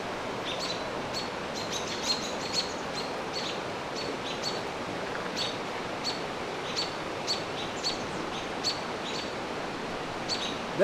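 Small birds chirp and call repeatedly while mobbing a barred owl at Puntledge Park, Canada: sharp, high tweets recur throughout over a steady rushing background, with no talk.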